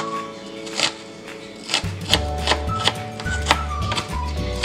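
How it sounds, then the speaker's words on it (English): A small piece of onion is chopped into little squares on a cutting board, a close series of knife taps over a steady tonal background, with no talking. "I'm gonna chop it up into little squares."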